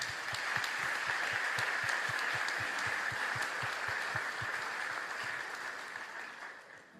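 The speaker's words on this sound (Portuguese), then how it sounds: "Eu queria aplaudir o Senhor pela vida dele, do Márcio." A church congregation applauds together, a thick wash of clapping that holds steady for several seconds over a regular low thumping beat, then fades out near the end.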